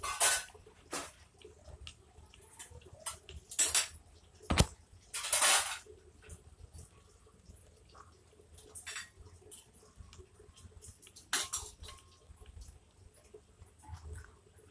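Clean, dried dishes are moved from the drying spot to their storage place in a home kitchen, with scattered clinks of pots, plates and cutlery at varied intervals over quiet room noise.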